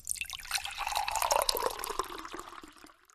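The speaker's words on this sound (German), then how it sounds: "Nun gebe ich das Sauerkraut dazu, zusammen mit einem kleinen Schuss Wasser und einer Prise Zucker." A short splash of water goes into sauerkraut in a pan and gives a close, bright gurgling pour with crackling drips that swells and then fades out over a few seconds.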